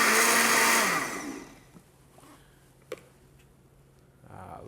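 A blender briefly whirls carrot butter sauce with a loud whine that winds down after about a second, followed by quiet with small clicks and faint handling.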